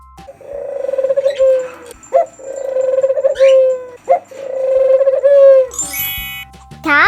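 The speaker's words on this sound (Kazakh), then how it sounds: "Көгершін, голубь," Pigeon cooing in repeated low throaty phrases, three long coos separated by short breaks, close and clear, ending with a brief higher chirp.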